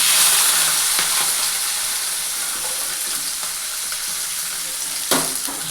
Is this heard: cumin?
yes